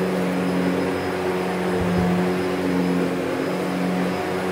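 A Shark DuoClean Powered Lift-Away upright vacuum cleaner runs on carpet, giving a loud, steady motor drone with a low hum and a fluctuating whine, with no talking.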